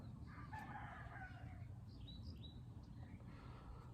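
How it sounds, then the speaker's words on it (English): Chickens and guinea hens cluck and call faintly at a distance over a steady low rumble of outdoor background noise. "There's chickens and guinea hens walking around."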